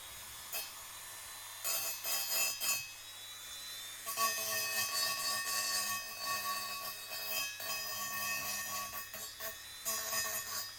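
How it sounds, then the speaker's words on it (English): A Dremel fitted with carbide burrs grinds down small welds between the fins of Kawasaki Z1 six-cylinder motorcycle cylinder barrels. It gives a close, high-pitched whine in repeated bursts with short pauses, and no one speaks. "use my Dremel with carbide burrs to file down the"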